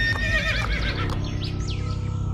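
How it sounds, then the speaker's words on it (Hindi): A horse whinnies loudly and close by as it is reined to a stop, its neigh rising and falling in wavering pitch for about a second before trailing off over a steady low rumble. "मोहन प्रसाद ने घोड़े को रोक लिया"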